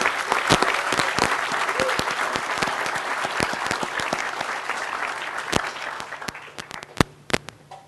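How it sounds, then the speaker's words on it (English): Warm applause from a crowd at an outdoor ground blessing for the new UH West Oahu campus, steady clapping that thins out toward the end into a few scattered, louder individual claps. "I want to ask you all to give a round of applause to the UH West Oahu faculty"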